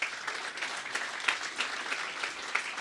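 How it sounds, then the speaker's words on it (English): A network operators' meetup audience gathered at Facebook applauds its hosts, producing steady, moderately loud clapping with scattered distinct claps and no talking. "Please give them a round of applause for hosting us"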